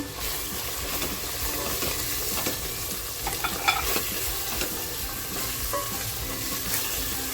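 Steady sizzling of homemade spice mix and turmeric in hot oil, with occasional stirring and light scraping, close and continuous.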